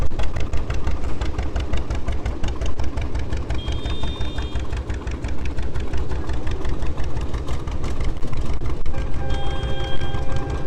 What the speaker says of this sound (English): I think it's a 1949 John Deere G.